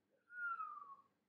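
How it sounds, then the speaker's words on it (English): A single low whistle, drawn out and gently falling in pitch, heard alone and fairly close for about a second against near silence. "he gave a low whistle"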